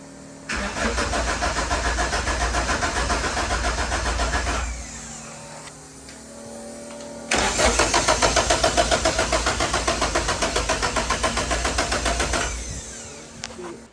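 A Honda CRX drag-car engine is cranked twice in long loud bursts of fast rhythmic chugging, close by, with a quieter pause between the two attempts and a short rev as it catches at the end.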